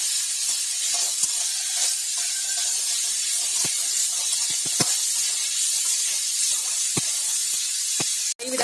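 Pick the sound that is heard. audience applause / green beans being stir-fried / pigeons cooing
green beans being stir-fried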